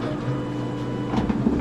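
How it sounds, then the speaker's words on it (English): A 3D printer homes its axes, its stepper motors giving a steady mechanical whine and hum with a few small clicks and bumps near the end, moderately loud, with no voices. "And now it's going to home the printer"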